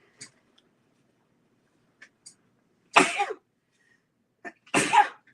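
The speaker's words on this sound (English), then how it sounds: "And I need to sneeze." A person sneezes twice, sharp close bursts about two seconds apart, each preceded by small intakes of breath in an otherwise quiet room.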